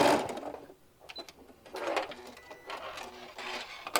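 A sewing machine runs in short bursts, stitching a few stitches forward and then back to a marked point, with brief pauses between the runs.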